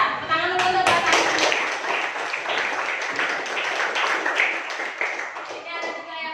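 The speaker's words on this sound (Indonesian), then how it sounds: "Tepuk tangan dulu untuk kalian." Schoolchildren clap together in a classroom, a dense burst of sharp hand claps that continues steadily for several seconds, with young voices calling out over the applause.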